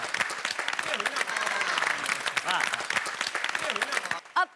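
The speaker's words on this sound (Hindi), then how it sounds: "गोकुल धाम, आप लोग अपने लिए जोरदार तालियां बजाएं।" Gokuldham residents clap for themselves at a fitness camp, a dense, continuous burst of applause layered with overlapping voices and cheering, fading briefly near the end.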